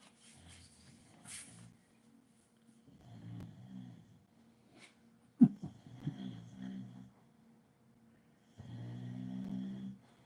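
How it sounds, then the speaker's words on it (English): Low, rumbling snores from a sleeping dog come in a few slow bursts, separated by quiet pauses and a sharp bump from a chair, with one longer snore at the end. "She's snoring loud."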